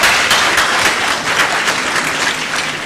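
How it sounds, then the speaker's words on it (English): A crowd claps steadily for a few seconds, dense and close, with no voices over it. "give yourselves a huge round of applause"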